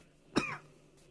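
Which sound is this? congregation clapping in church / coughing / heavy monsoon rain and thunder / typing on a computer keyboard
coughing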